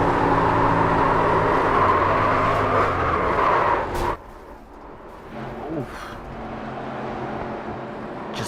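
Heard from on board during a 1987 Daytona 500 race, a race car engine screams steadily at high revs near the rev limiter, then drops abruptly and roars back at a lower, rougher pitch.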